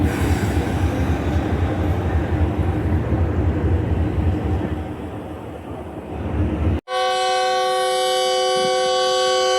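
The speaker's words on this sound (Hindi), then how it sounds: "तो दोस्तों जाफर एक्सप्रेस का विसल हो चुका है, डिपार्चर की रेडी है।" Jaffar Express sits at a railway platform, a loud rumbling train din filling the air before a long, steady multi-tone whistle blares near and sustained, with no speech.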